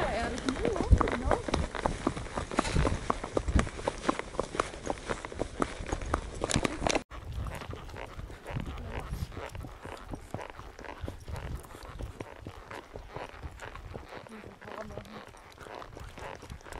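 Horse hooves on a trail ride in Copper Canyon at Divisadero, Mexico, at sunset, a steady clip-clop of walking steps close by that continues through a sudden drop in background level partway through.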